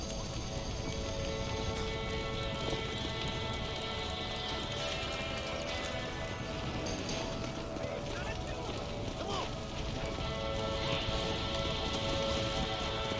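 Video game horse hooves clip-clop continuously at a riding pace, with a voice talking over them throughout.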